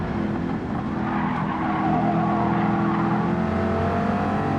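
A race car engine drones steadily in the video game Gran Turismo 7, with tires skidding and squealing through a corner, loud and continuous throughout.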